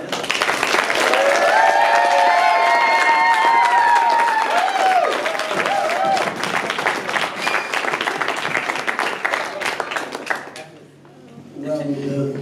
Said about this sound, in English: I think they deserve a very, very large round of applause